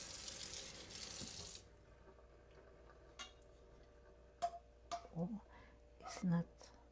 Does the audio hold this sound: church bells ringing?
no